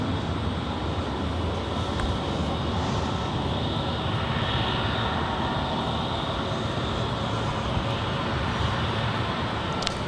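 A Hawaiian Airlines Airbus A321neo departs LAX on its way to Kahului, a continuous loud jet engine roar with a dense rumble and a high whine running steadily throughout.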